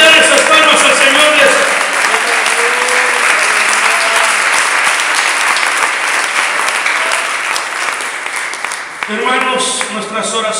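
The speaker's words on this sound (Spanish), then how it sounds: "Le quiero dar esas palmas al Señor." A church congregation at a Spanish-language worship service claps in loud, sustained applause for about nine seconds, then a voice speaks as the clapping fades.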